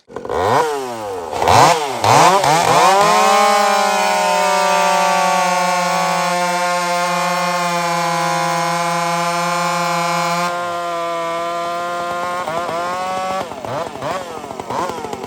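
A Husqvarna 572XPG chainsaw fitted with a ram horn muffler bucks wood: loud, close revving bursts at the start, then a long sustained high-rev cut that drops off near the end into throttle blips.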